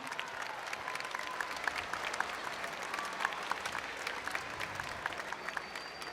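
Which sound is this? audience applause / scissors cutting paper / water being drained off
audience applause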